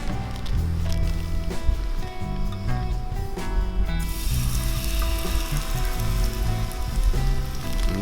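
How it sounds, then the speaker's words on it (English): Eggs poured into a hot oiled non-stick pan while backpacking, giving a steady, close crackling sizzle that runs throughout with small pops and a brief louder spit near the start. "I got the oil in the pan, it's hot. I'm gonna pour my eggs in."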